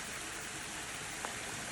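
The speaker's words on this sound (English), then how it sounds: "Come on, it's raining, can't you hear it?" Steady, even hiss of rain falling along the Cumbria Way hiking trail, constant and moderately distant, with one faint drip or tap near the end.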